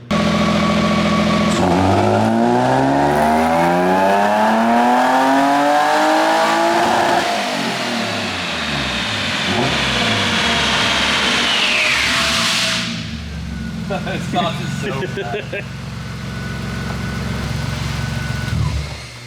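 A car engine on a chassis dyno, a BMW-type setup with variable valve timing, revs hard through a full pull with rising harmonics, then drops off around twelve seconds and settles to a lower rumble with a brief blip near the end; no talk.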